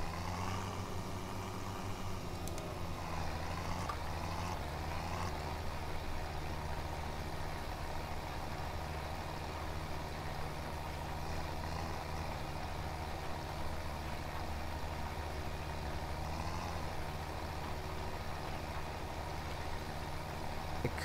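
A tractor engine in Farming Simulator 17 idles and reverses with a continuous low, steady rumble, faint and unchanging throughout, with no talk.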